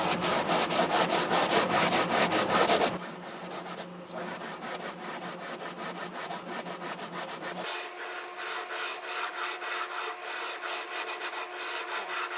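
Hand sanding of wood with an 80 grit sandpaper on a long block along the string path of a 10-string classical guitar: quick rhythmic rubbing strokes up close, then a quieter, steadier scrubbing.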